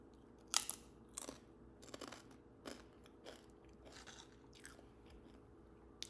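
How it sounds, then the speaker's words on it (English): Crispy potato crisps bitten and crunched close up, a few sharp loud crunches early on followed by softer intermittent chewing crackles, with no talking. "And let's go to some crispy crisps."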